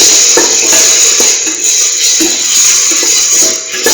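A curried lentil and rice mixture sautéing in a pan, with a steady bright sizzle broken by scattered scrapes and clicks of stirring. It stays fairly loud and close throughout, with no talk.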